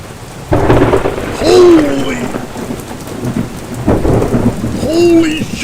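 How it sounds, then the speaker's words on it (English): Heavy thunderstorm rain pours steadily with loud thunder rumbles and cracks breaking through twice, close and powerful. "Listen to the rain here."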